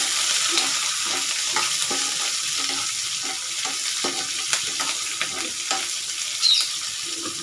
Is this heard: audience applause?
no